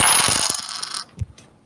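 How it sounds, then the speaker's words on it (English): A Cash App donation alert goes off as a burst of metallic coins clattering and pouring, bright and dense for about a second, then dying into a few scattered clinks and a low thud. "That's the sound of a Cash App donation."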